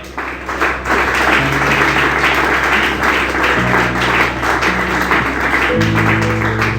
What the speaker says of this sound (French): Tu peux acclamer Jésus?